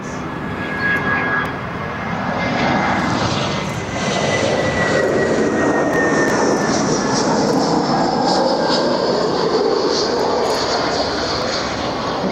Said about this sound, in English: Here it is, Cantabria Infinita.